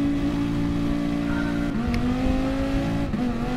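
A race car in a racing video game gives a loud, steady engine drone that holds a constant pitch, with brief dips as the revs shift and no talking.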